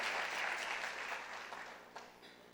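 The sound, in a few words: church congregation applauding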